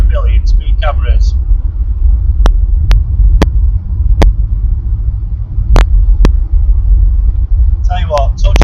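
A Triumph Stag V8 cruises at about 60 mph, a loud, steady low engine and road rumble from inside the car with occasional sharp clicks, while someone talks briefly at the start and end.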